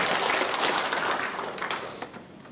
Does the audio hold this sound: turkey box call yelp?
no